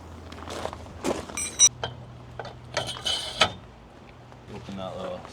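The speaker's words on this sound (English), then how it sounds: "Yeah, we'll jack it up." Manual jack on a tiny truck camper being worked by hand, giving soft mechanical clicks and ratcheting knocks at irregular intervals with a few louder clunks, amid quiet outdoor background and some movement.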